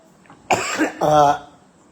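Two quick, rough coughs close to the mic, about half a second apart, each a harsh burst with voiced throat noise, then quiet.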